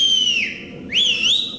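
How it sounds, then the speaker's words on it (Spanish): A sharp human whistle used as a signal, two rising-and-falling tones with a short dip between them, loud and close with no talk. "¡ahí me silban entonces!"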